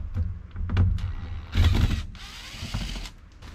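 Screws being backed out of a wooden booth built for a 1969 Pontiac Catalina wagon, a close mechanical ratcheting and whirring in short bursts with pauses between them.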